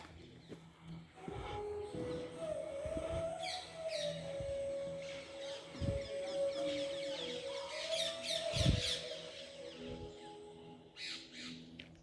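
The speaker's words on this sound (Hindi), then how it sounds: "चिड़ियों की आवाज़ और ये मेडिटेशन साउंड" Birds chirp and tweet in scattered bursts against a soft steady background hum, with a few low thumps mixed in, at the Beatles Ashram in Rishikesh; no one speaks.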